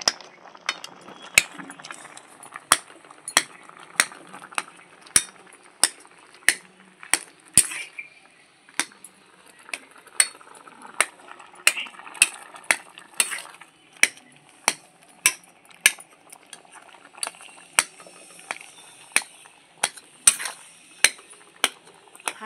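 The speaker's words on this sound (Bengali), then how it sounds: "হাতা দিয়ে এইভাবে আমগুলোকে গালিয়ে নেব।" Green mangoes, boiled soft, being mashed with a ladle in a pot, giving a steady series of sharp metallic clicks and scrapes at a fairly regular pace, close and clear with no talking.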